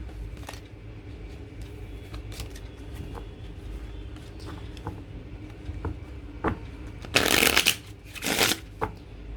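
Tarot cards shuffled for a reading, a soft papery riffle running steadily throughout, with two louder, brighter bursts of fast card flutter near the end; no talking.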